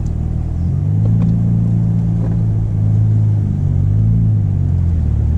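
A car rumbles steadily down a rough barn road, its engine droning low and loud with slight surges in pitch and no voices over it.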